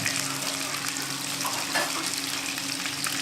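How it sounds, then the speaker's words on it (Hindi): Water is poured into a pot of desi chicken curry as it cooks, making a continuous hissing sizzle with light bubbling, moderately loud and steady. "पानी ऐड कर देते हैं शोरबे का।"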